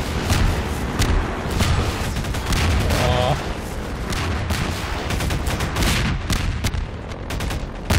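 Dense, continuous video game gunfire with heavy grenade blasts and thuds in a German-language multiplayer shooter, loud and sustained throughout with no let-up, and people talk over it.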